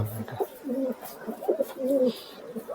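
Punjabi Malbai pigeons cooing in a loft, several low rolling coos repeating in steady bursts close to the microphone, with no voices.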